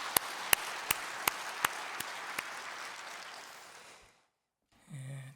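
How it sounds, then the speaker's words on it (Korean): Church congregation in a Korean worship service claps together, a few sharp individual claps punctuating a broad wash of applause that fades out after about four seconds, followed by a brief low voice. "하나님께 다시 한번 영광의 박수 올려드리겠습니다."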